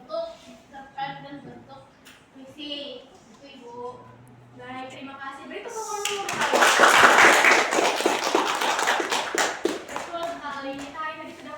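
A classroom of students breaks into lively, dense clapping for several seconds in a school lesson, following a stretch of a teacher's speech.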